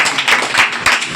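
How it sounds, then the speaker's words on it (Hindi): A group claps at an Independence Day gathering on 15 August, several loud close bursts of hand clapping in an uneven rhythm. "ताली ताली।"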